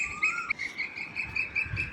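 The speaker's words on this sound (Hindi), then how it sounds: "आवाज़ सुनो" An Asian koel calls in Indira Park, a steady high tonal note repeating against soft insect-like chirps and a low outdoor murmur, with no talking.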